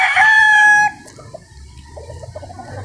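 A gamecock being readied for a cockfight lets out one loud, close crow lasting under a second, then quieter clucking and shuffling follow.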